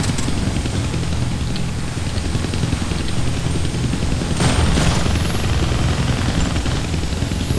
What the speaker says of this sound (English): I'm not afraid of a chopper, bro.